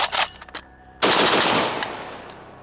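Rifle fire from a Zastava M77 .308 AK at an outdoor range: a couple of faint clicks, then one loud, sharp shot with a long echoing tail that fades away.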